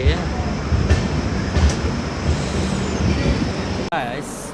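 A train rumbles loudly at Duvvada railway station, a dense, continuous roar close by with rhythmic clatter, and the noise drops abruptly near the end.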